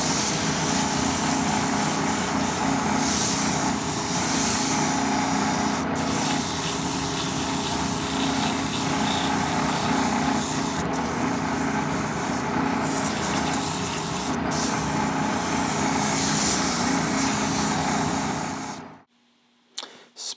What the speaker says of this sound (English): Sand the piece while it's still on the lathe, using finer and finer grits.